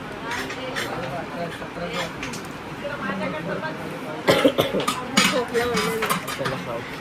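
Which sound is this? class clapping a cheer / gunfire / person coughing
person coughing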